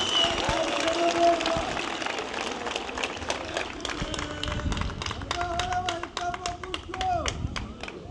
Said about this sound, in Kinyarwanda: Nagira ngo mubampere amashyi tubashimire.